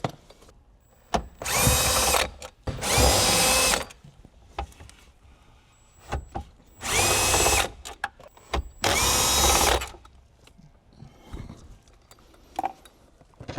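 Power tool removing four 10 mm bolts during amplifier installation on a 2024 Toyota Land Cruiser, four loud whirring bursts of one to two seconds each with quiet clinks between them.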